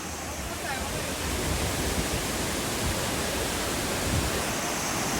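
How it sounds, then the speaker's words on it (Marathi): Amboli waterfall in Maharashtra's hills: a steady, dense roar of falling water fills the whole clip, loud and continuous with no breaks, heard up close and alone without any talking. "धबधबा कसा आहे बघा"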